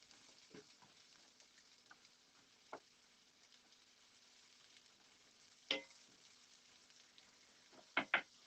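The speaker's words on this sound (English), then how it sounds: "So let's give all that a stir." Jambalaya is stirred in a pan: a quiet continuous sizzle broken by a few sharp scrapes and clacks of a spoon against the pan, faint and close, with no talking.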